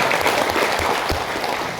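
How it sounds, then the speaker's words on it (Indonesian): Audience applause at a hotel seminar, a dense sustained burst of clapping from a room full of people with no voices over it. "Jadi tepuk tangan untuk Bapak Ibu semua."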